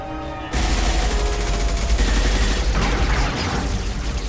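A sustained, dense fusillade of gunfire in Mass Effect 2 begins abruptly after a brief quiet moment and continues loud and close with overlapping shots and rumbling booms.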